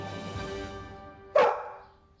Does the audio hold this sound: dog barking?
yes